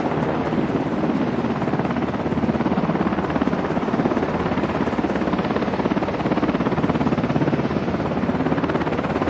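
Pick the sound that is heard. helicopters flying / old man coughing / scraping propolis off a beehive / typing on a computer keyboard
helicopters flying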